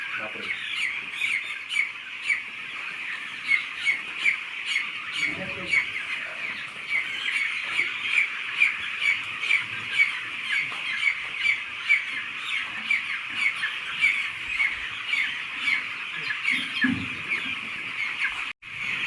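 Poultry chicks and chickens squawk and cheep continuously at a farm, a dense, busy chorus of high peeping with louder squawks throughout, and people talking faintly in the background.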